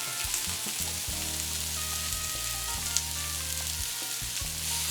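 Steak fajitas with onions and tomatoes sizzle steadily in a hot pan, a dense continuous hiss and crackle at close range with no talking over it.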